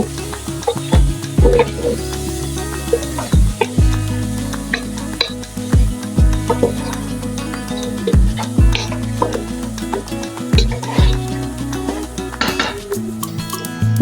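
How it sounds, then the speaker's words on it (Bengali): Washed rice and masoor-free lentils being stirred in a pan for khichuri, a loud close run of metal spoon scrapes and clinks against the pot over a soft sizzle, in repeated strokes. "আমি ধুয়ে রাখা চাল ডাল দিয়ে দেব। এটা খুব সুন্দর করে এখন নেড়ে মিক্স করে নেব।"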